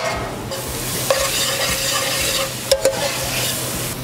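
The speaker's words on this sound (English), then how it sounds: "I'm gonna add about half of these. And these are gonna saute for about 2 or 3 minutes." Garlic and mushrooms sauté in a pan, a steady close sizzle with a few brief stirring clinks and scrapes, no talking.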